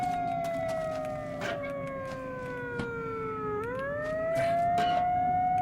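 A wailing siren in the video game Metro Last Light Redux slowly sinks in pitch, then rises again, sustained and prominent over a low background rumble, with scattered clicks and thuds from the game.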